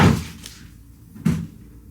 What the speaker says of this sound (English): Someone just knocked a cat tower over.